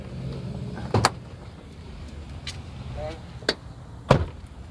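The hood of a 2001 Mercedes ML 430 V8 SUV is opened: a sharp latch click, then a couple more mechanical clunks spaced over a few seconds, close by against a quiet background.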